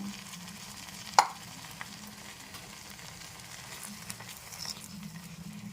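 A spice paste with soaked raisins, milk and water is stirred in a pan for cauliflower rezala, producing a soft sizzle under scraping strokes, with one sharp clank of a utensil early on, quiet and close.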